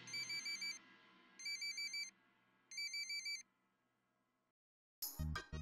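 A telephone rings with three bursts of warbling electronic trills separated by pauses, loud and close, then a short burst of other sound cuts in at the end.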